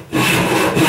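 A hand saw rips along the grain of a wood board in one loud, close, rasping stroke.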